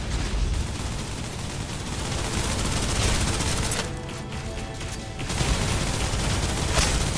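Sustained suppressive gunfire from the video game Snowbreak, a dense, loud, continuous barrage of rapid shots with a brief dip in the middle before the firing swells back up.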